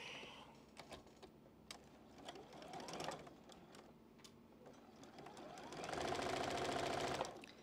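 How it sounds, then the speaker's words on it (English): A sewing machine stitches a patchwork quilt block for a Card Trick pattern, its needle chattering in short runs that build into a louder, sustained burst near the end, with no talk over it. "Not stretching that block at all, just let it go through your machine."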